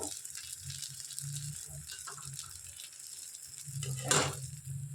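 Jalebi batter fries in hot oil with a quiet, continuous sizzle and crackle. A brief louder bubbling flare comes near the end.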